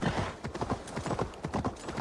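Horse hoofbeats in Assassin's Creed Valhalla, a steady galloping clip-clop of repeated hoof strikes, close and even in rhythm, with an occasional faint whinny and no talking.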